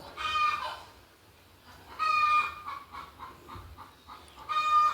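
Several Kappiri spotted native roosters crow in turn, loud bursts repeating every couple of seconds, with quieter clucking and farmyard noise between them.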